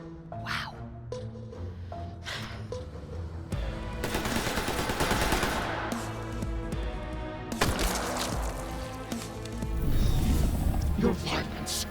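Gunfire in the video game New Tales from the Borderlands, sharp single shots early on, then sustained bursts of automatic fire mixed with game music and effects.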